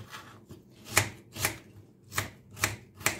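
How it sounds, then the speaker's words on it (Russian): A knife cuts onion coarsely on a board in a home kitchen, about six crisp, evenly spaced chops close by, each a sharp crunchy tap with quiet gaps between. "Итак, лук нарезаем крупно."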